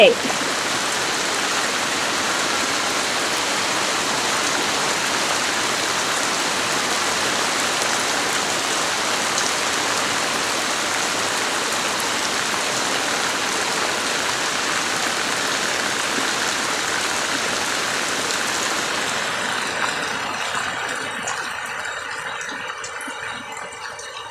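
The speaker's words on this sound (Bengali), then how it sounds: "আল্লাহর রহমতের বৃষ্টি হচ্ছে আমাদের" Steady heavy rain pours down in a continuous, loud wash that holds for most of the stretch before suddenly thinning out near the end.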